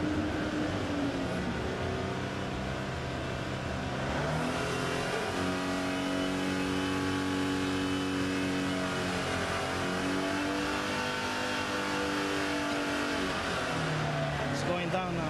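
An old clunker car's engine revs continuously, its pitch climbing and sagging as the RPM rises and falls, loud and close throughout, with people talking over it.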